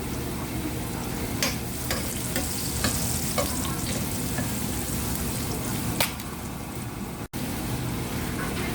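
Onion sautéing in a pan for ginisang upo with ground pork, a steady loud sizzle with a few clinks and scrapes of a spoon stirring, and one sharp tap near the end.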